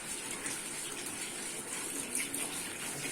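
Water runs and splashes steadily from a tap as it is changed to cool partly cooked raw mangoes for a mango sherbet, a fairly soft, continuous gush with no voices.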